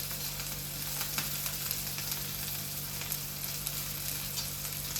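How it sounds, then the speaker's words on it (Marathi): Masala stir-fried in a pan for bhakri bhuga, a steady close sizzle and crackle of frying with faint scraping, continuous throughout with no talk. "आता हा मसाला जो आहे ना व्यवस्थित इथे परतावा."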